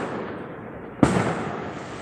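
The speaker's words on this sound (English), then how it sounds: "If you hear all these booming and banging outside, it's people shooting off fireworks." A single firework booms outside on New Year's Eve, a sharp loud bang about midway that decays into a rumbling tail over a steady background hiss.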